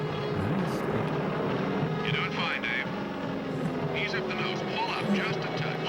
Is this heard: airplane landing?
yes